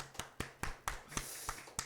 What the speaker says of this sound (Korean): 우리 한번 축하의 박수를 한번.